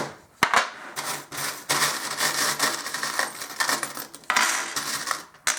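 Small fortune-telling charms are shaken and tossed onto a surface, giving repeated close clattering, rattling and clicking bursts with a few sharper knocks and no speech.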